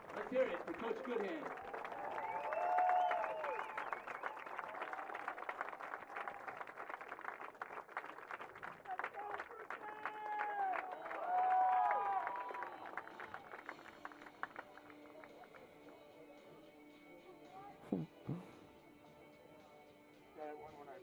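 Spectators at a men's lacrosse game give a sustained round of applause for Coach Goodhand, faint distant clapping that tapers off, with voices talking throughout.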